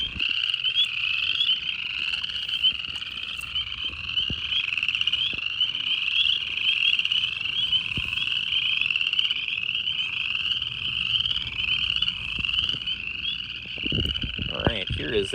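Chorus frogs calling in a wetland, a dense, continuous chorus of rising trilled croaks that stays loud and steady, with a few low knocks and handling noises toward the end.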